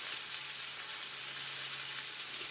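Chicken legs fry skin-side down under a press in a hot pan, producing a steady, even sizzle that holds at a constant level, close and alone.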